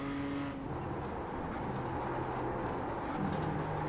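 A BMW M2 CS in the iRacing game at Tsukuba, engine note dropping through downshifts to second gear and then rising as the throttle comes back on, steady and fairly quiet.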